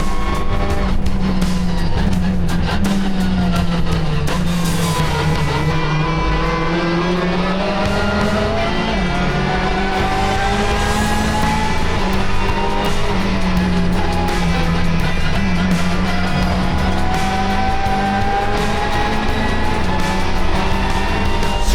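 A race car in a racing simulator runs a fast lap on a quick, sweeping track, its engine note rising and falling steadily through the gears with faint tire noise, loud and continuous throughout.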